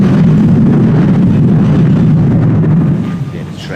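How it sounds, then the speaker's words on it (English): A tram rumbles overhead on railway arches in Manchester near Pomona Wharf, a loud, sustained low roar heard from beneath that fades slightly toward the end. "Train going by above on a tram"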